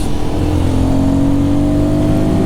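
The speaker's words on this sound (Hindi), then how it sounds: "Rev it harder." Royal Enfield Guerrilla 450 motorcycle engine revved hard, a loud, steady, close-up roar held throughout with no pauses.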